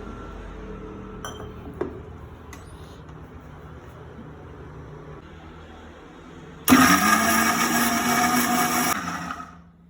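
Mixer grinder blending green chilies, garlic, curd, coriander and salt with water into chutney: after quiet kitchen clinks, a loud close whirring roar kicks in abruptly, runs a couple of seconds, then winds down.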